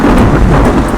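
A massive thunderstorm rumbles with deep, continuous thunder beneath steady, heavy rain drumming on surfaces, loud and close throughout with no pauses.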